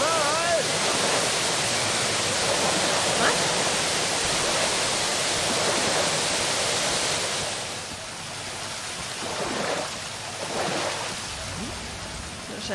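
Rushing river water in the video game Metro Last Light Redux, a loud continuous broadband wash of flowing water that steadies for most of the stretch, then dips and surges slightly near the end.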